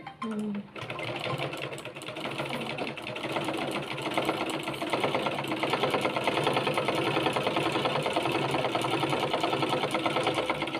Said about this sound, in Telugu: ఇప్పుడు ఇటు ఎర్జికి కుట్టుకోండి